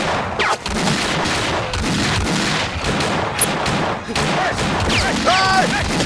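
Dense, rapid gunfire crackles throughout, bursts overlapping with shouting voices and a few sharp higher-pitched tones near the end.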